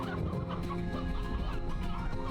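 Chickens cluck continuously in Slime Rancher 2, a dense, steady layer of fowl calls over constant game background sound, with no talking.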